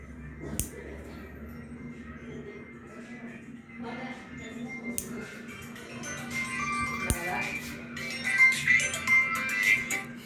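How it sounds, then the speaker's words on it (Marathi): A mobile phone ringtone plays a looping melody inside a beauty parlour during cleaning. It grows louder toward the end, with shuffling movement and faint background voices around it. "फोन वाजत आहे."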